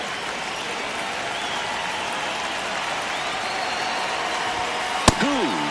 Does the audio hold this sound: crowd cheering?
yes